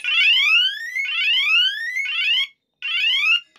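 An electronic bicycle horn sounds loud and close in a repeating pattern of rising, siren-like sweeps, three long whoops in a row, then a short pause and one more. Nothing else is heard.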